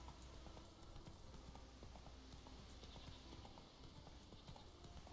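Roach, Geralt's horse in the video game The Witcher 3, trots with a steady clip-clop of hooves, soft and even over a constant ambient game background.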